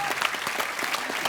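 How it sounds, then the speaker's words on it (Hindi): A brief burst of studio audience applause on a comedy talk show, dense clapping from many hands filling the whole moment. "एक बार जोरदार तालियां"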